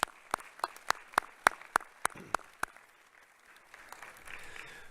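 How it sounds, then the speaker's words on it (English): Sparse, sharp claps ring out one by one at a doctoral hooding ceremony, a dozen or so distinct hand claps in an uneven rhythm that thins into faint scattered clapping and murmur. "let's have a second round of applause in thanking your family and friends"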